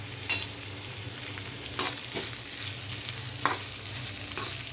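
Onion roasting in a pan to a reddish brown for a Maharashtrian kat vada usal masala, with a steady close sizzle and several sharp scraping stirs of a spatula spread across the clip.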